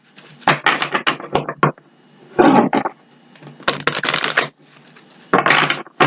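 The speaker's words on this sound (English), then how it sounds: "we're going to give it a couple shuffles" Several bursts of rapid fluttering clicks as cards are riffled, close and crisp, separated by short quiet pauses.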